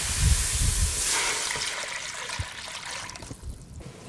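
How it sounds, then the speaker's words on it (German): Fish stock hits a hot pan with a sharp hissing sizzle while making mussel soup, then settles into a softer, steady bubbling hiss that gradually quiets. "Und löschen es jetzt mit unserem Fischschaum ab."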